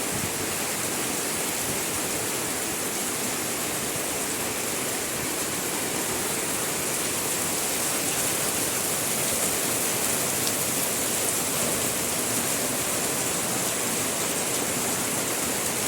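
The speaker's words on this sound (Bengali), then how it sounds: "এত বৃষ্টি হচ্ছে, এই বৃষ্টির কারণে মনে করেন যে" Heavy rain falls steadily on an afternoon under dark clouds, a dense, constant hiss of downpour without pause, close and loud throughout, with no voices.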